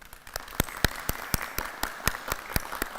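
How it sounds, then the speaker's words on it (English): Audience at a college School of Education pinning ceremony applauding, sparse distinct claps with a thin spattering texture. "we would like to give you a round of applause at this time"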